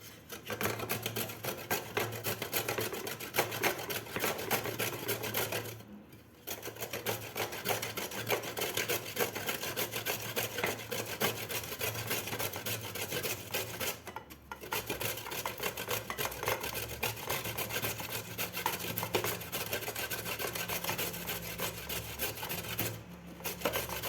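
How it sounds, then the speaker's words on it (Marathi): Fresh turmeric root scraped over a coarse grater, a continuous close rasping rub in long strokes with two brief pauses, fairly quiet and without talking. "मी या जाड खिसणीनं हे हळद खिसून घेणार आहे"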